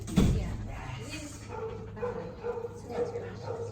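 A dog gives a sharp bark near the start at a dog aggression training session, followed by softer whimpering and yips under low, murmured background noise.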